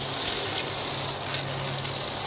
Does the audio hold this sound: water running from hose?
yes